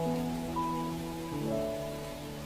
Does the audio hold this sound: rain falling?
yes